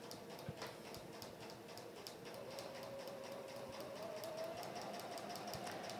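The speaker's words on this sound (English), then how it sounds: "So just position your needle on the line and sew along the line." A sewing machine stitches steadily along a marked line on quilting fabric, its needle ticking in a fast even rhythm with a faint motor whine rising slightly, close and alone.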